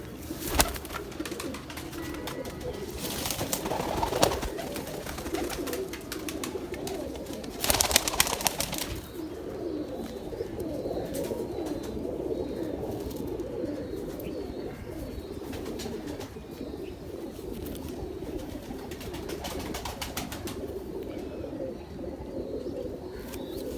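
Pigeons kept by a breeder, with a soft, continuous cooing and throaty murmuring from several birds nearby and occasional louder flutters or handling noises, with no talking.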